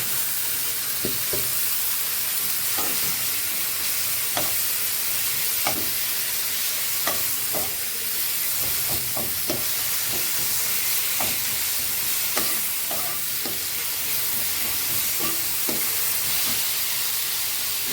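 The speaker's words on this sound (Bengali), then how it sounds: "এখানে একটা টমেটো আমি গ্রেটার দিয়ে গ্রেট করে রেখেছি, এটা দিয়ে দিচ্ছি।" Grated tomato goes into a hot frying pan for rohu fish kalia, raising a steady loud sizzle and hiss throughout, with scattered scrapes and taps of a stirring utensil over it.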